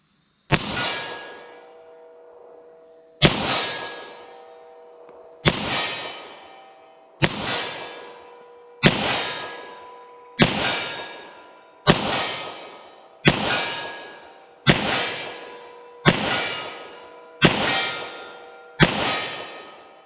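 Eleven loud .357 Magnum handgun shots fired at a 40-yard target outdoors, each sharp crack ringing out with a decaying tail, spaced about two seconds apart with no talking.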